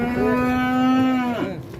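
A single long, low cow moo, steady and close, that bends upward and fades out near the end.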